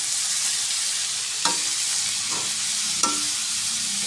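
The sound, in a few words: stirring sautéed bitter gourd (ampalaya) in a pan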